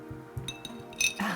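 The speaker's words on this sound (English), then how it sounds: "So I actually have a glass of bubble water handy, and I'm going to put my ice cubes in it." Ice cubes drop into a glass of sparkling water, giving a few quick, light clinks against the glass followed by a brief fizzing splash, all close and fairly quiet.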